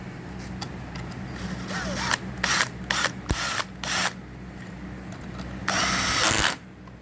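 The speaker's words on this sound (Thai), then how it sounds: "ทำการขันน็อตครับ" A bolt is tightened on a water pump that stopped working after sitting unused, with a series of rapid ratcheting bursts of varying length, close and fairly loud, ending in a longer run.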